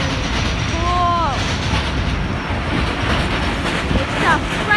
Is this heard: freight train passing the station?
yes